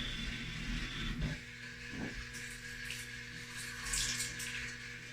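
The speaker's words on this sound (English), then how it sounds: "I usually just give it a real quick rinse to kind of save the stop bath a little bit." Water runs steadily during a quick rinse of an RA-4 colour photo print, a continuous close, moderate wash of flowing liquid with faint splashes and no voices.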